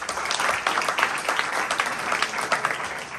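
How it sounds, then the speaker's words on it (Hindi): A church congregation at an Urdu Christian sermon breaks into loud, dense applause, a continuous wash of many hands clapping at once. "जोरदार ताली देंगे।"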